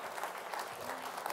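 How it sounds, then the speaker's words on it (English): A live audience applauds volunteers called up on stage at a mental-math show, a steady wash of clapping at moderate distance with no voices. "Let's give these volunteers a nice round of applause"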